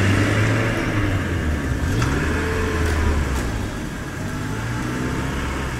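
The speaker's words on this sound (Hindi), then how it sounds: "अब गाड़ी चल पड़ी थी।" A car engine hums steadily and gathers revs as the vehicle pulls away on a wet, rain-soaked road, the low drone staying close and continuous throughout.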